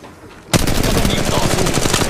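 Rapid, dense automatic gunfire from the mobile shooter Apex Legends Mobile, with Pathfinder as the played character. It bursts in abruptly after a short quiet moment and stays loud and continuous to the end.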